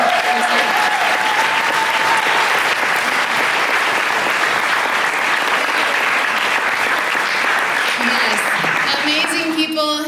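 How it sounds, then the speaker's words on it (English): Loud, sustained applause from a large audience fills the whole stretch, dense and steady, with a few faint tonal voices or singing showing through near the start and end. "So will you bless them by just a round of applause?"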